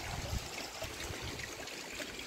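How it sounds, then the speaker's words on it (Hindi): Small waterfalls and streams flow in the valley behind Ranthambore fort near a Shiv temple, heard as a steady, moderately faint wash of running water with a few low gurgles and no talk. "यहाँ पर काफ़ी छोटे बड़े आपको झरने बहते मिल जाएंगे।"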